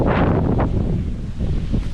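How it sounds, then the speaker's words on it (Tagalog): Strong wind buffets the microphone in a rural outdoor setting, a loud, rough continuous roar with gusty swells for a couple of seconds, no voices. "grabe ang hangin ngayon"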